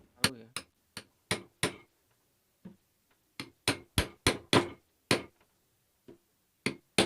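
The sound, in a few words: hammer tapping sewing machine motor part into its casing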